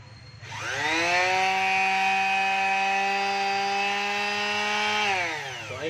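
A DeWalt DWE6411 finishing sander, just repaired with a new rubber part, starts up and runs at a loud steady whine for several seconds before winding down.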